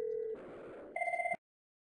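A telephone tone plays during a voice-over-IP inbound call test: a steady tone, then a brief noisy gap, then a pulsing two-pitch ringing burst that stops abruptly after about a second and a half.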